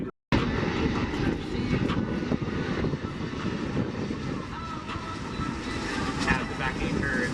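C-17 military transport aircraft at the Oshkosh AirVenture airshow, a loud continuous engine roar that holds steady throughout with no break, while a voice talks over it.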